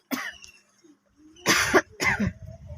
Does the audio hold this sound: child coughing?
yes